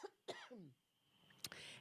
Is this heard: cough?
yes